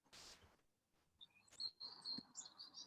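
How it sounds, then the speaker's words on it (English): Small birds chirp outdoors in short, thin tweets that come and go over a quiet background, fairly faint and at moderate distance. "Can hear the birds."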